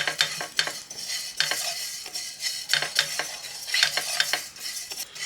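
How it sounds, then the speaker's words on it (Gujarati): Cumin, fennel, fenugreek and ajwain seeds are dry-roasted in a pan over medium gas and stirred briskly with a spoon, making repeated close scraping and rattling strokes with no talking. "મીડિયમ ગેસ ઉપર બધાને સરસ શેકી લઈએ."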